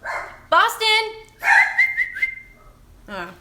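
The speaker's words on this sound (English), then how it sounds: "we'll just let him bark away." A dog named Boston gives loud, close, high-pitched barks and whining yips in quick bursts, with a pause before a final yelp, in a quiet indoor room.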